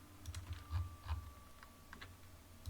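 A command typed on a computer keyboard: quiet, close, irregular clusters of key clicks with brief pauses between them.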